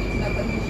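Moscow metro underground train at a station, giving a steady rumble with a faint high whine throughout, close and continuous.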